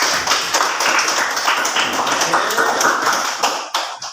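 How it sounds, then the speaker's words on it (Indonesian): Pupils in a classroom clap together after a group presentation, a dense patter of hand claps at close range that runs steadily and then tapers off at the end. "Tepuk tangan dulu."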